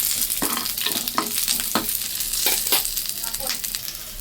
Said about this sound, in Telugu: కొద్దిగా ఆయిల్ వేసుకొని సో కారం తగ్గట్టు పచ్చిమిర్చి కొబ్బరి అయితే వేయించుకోవాలండి